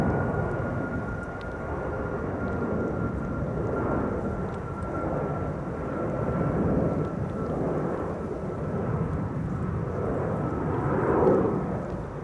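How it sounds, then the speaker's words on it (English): Lightweight airliner climbing steeply after takeoff from Schiphol's Polderbaan runway 36L, a sustained jet engine roar with a faint whine, rising and falling gently and swelling louder toward the end. "You can see already it's climbing like it's a freaking Embraer."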